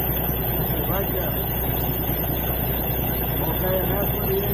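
A truck engine runs with a constant low hum and rumble while exhaust fumes leak into the cab from the engine compartment; someone talks over the steady noise throughout.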